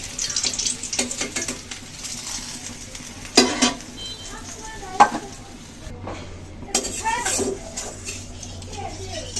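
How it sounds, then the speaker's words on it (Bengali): Hot oil left from frying koi fish sizzles in a pan, a continuous crackling hiss with stirring and scraping clatter and a few sharper clanks over it. "ওই মাছ ভাজা তেলের ভিতরে আমি আরেকটু তেল দিয়েছি তেল গরম হয়ে গেছে"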